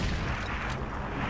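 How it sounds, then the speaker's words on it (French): Dense, overlapping gunfire and explosions from the Medal of Honor video game, loud and continuous, with a saturated, distorted roar of rapid shots and booms. "Il y a tellement de bruit d'explosion et de tir à la fois que le son du jeu il bug un peu"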